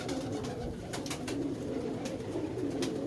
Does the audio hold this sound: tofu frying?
no